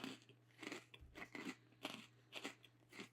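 Crisp, close crunching bites and chewing on a freeze-dried ice cream sandwich, with a hard cookie shell and softer inside, repeating in quick irregular bursts against a faint steady hum.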